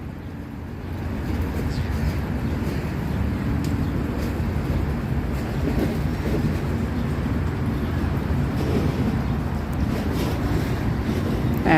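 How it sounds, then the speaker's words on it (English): Choppy harbor water slaps and churns across from Jersey City while wind roars steadily against the microphone, a loud, constant wash with no talk. "And the water is kind of choppy today."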